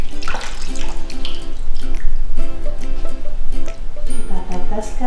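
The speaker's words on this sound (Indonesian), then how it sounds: "Kita buka keran, basahi kedua tangan." Tap water running over both hands as they are wetted at a sink, a steady splashing stream close by with a voice talking over it.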